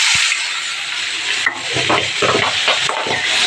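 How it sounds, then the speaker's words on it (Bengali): Green peas with black cumin crackling and sizzling loudly in a hot pan, a dense hiss with scattered pops and stirring scrapes close by. "দেখো কড়াইশুঁটিগুলো ফটফট করে ফুটছে"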